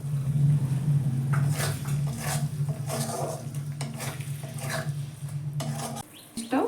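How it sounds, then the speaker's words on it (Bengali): Whisked sour yogurt frying in a pan of masala for doi katla, with steady stirring and scraping of a utensil against metal under a low sizzle, continuous and close. "টক দইটা দিয়ে আমি একটু কষে নেব"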